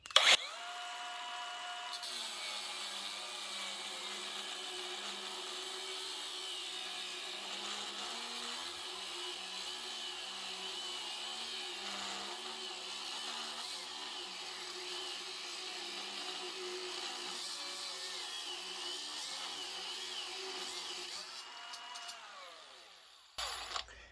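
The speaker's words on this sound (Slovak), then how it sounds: "teraz vyskúšam v reze na flexu zatlačiť" A Narex CBU 125 cordless angle grinder on a 4Ah battery whines steadily for over twenty seconds, its pitch sagging and wavering as it is pressed into a cut, then spins down at the end.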